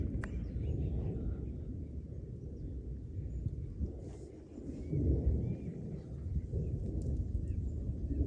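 Constant low thunder rolls and rumbles through a storm outdoors, a steady dense roar with a slightly louder swell midway and no break across the stretch.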